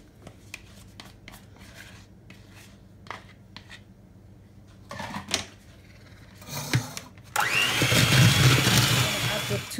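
An electric mixer creams butter and sugar for butter biscuits, first in short intermittent bursts with clicks and handling, then running loud and continuous for the last few seconds.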